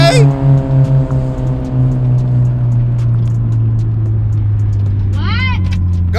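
A turbo Honda Civic engine droning and rising in pitch as it pulls in second gear, loud and close inside the cabin, with people talking over it.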